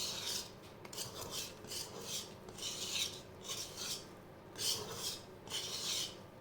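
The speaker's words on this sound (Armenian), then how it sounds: "Ու շարունակում ենք խառնել" Cake batter stirred after warm milk is added for a tall sponge cake, with a utensil scraping the bowl in rhythmic, raspy strokes, about two per second, soft and close.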